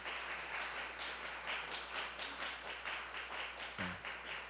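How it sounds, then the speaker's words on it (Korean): Church congregation at a Christmas thanksgiving service clapping steadily in welcome, a dense, even patter of many hands filling the room without pause. "우리 한번 일어나 주시면 우리 큰 박수로 환영하겠습니다."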